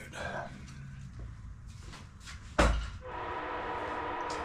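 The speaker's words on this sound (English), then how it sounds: "Here comes the train." A train rumbles by nearby with clattering noise, punctuated by a sharp loud bang partway through, then a steady rolling roar.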